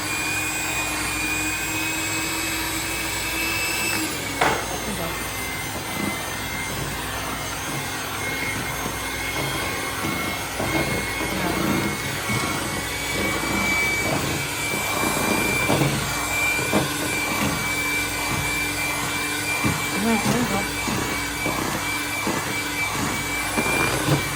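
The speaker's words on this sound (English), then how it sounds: "we just bought the electric mixer to make it easier" An electric hand mixer beats carrot cake cookie dough in a bowl, a steady loud motor whir with a brief change in pitch early on and faint knocking against the bowl throughout.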